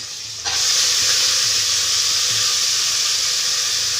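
Raw field beans (alasande) hit hot oil and set off a sudden loud, steady frying sizzle that holds without a break.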